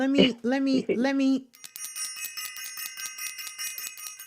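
A small bicycle-style bell rings in rapid repeated dings for a few seconds, right after a short burst of speech.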